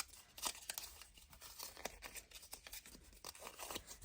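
Paper for a Halloween junk journal craft is crumpled by hand, giving a dense run of close, crackling crinkles and small tearing rustles for about four seconds, with no talk.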